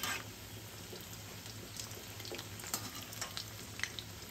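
Peri peri fish pieces frying in very hot oil in a pan, a close, steady crackling sizzle with scattered pops and light stirring, no voices.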